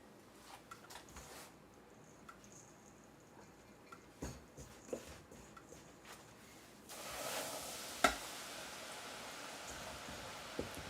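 Coated General Tso chicken pieces dropped into hot oil, a soft steady sizzle that swells into a broader, louder crackling hiss partway through, with a few small clicks and knocks from the pan nearby.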